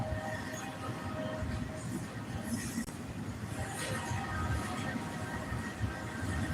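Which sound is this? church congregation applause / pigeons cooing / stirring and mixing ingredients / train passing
train passing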